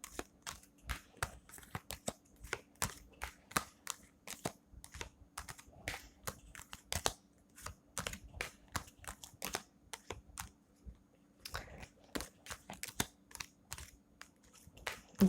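Tarot cards shuffled and drawn in pairs during a reading, a steady run of quick, crisp card snaps and riffles close by, alone with no talk.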